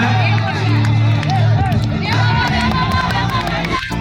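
An outdoor crowd at a village game for married women in Thanjavur cheers and claps, a busy mix of shouts and hand claps under loud nearby voices and hubbub.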